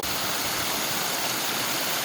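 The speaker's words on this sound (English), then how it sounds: "Let's show you this waterfall." A backyard pond waterfall pours over a log and rocks, a dense steady rush of water heard close up and unbroken throughout, with no voices.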